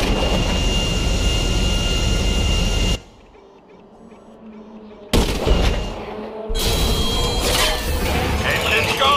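A private jet's engines roar in GTA 5 amid gunfire, a loud whooshing drone that drops out abruptly, returns with a burst, then continues steadily.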